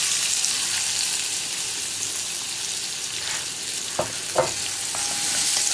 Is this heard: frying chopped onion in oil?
yes